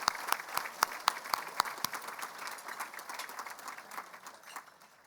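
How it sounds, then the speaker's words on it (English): Audience applause at an award dinner, a burst of distinct close handclaps that thins and fades out over a few seconds, fairly quiet. "I'd like to give you an applause."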